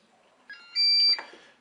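A Cookeo multicooker beeps to signal that preheating is finished in browning mode, with oil in the pot. The beep is a bright electronic tone, first a short lower note and then a longer, louder sustained note, heard alone in a quiet kitchen.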